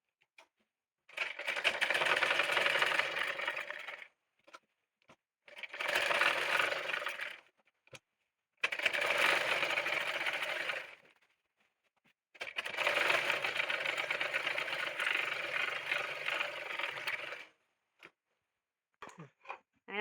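A sewing machine stitches the collar of an abaya gown in four bursts of fast, buzzing, whirring rattle, each lasting a few seconds and separated by brief quiet pauses.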